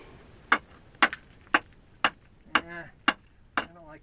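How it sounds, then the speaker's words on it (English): Sharp taps struck on loose rock in a chalk mine, six crisp evenly spaced knocks about half a second apart, close and clear, with faint ringing after some strikes. "so let's do a tap test here."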